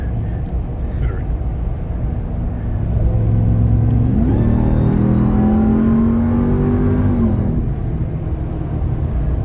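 A Ram TRX pickup truck engine rumbles, then revs up through rising gear shifts, loud and close, with a faint voice briefly underneath.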